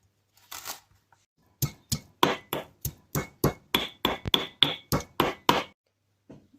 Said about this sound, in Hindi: अदरक को भी छोटे छोटे पीसीस में काट के तो हावन दस्ते में पीस लेते हैं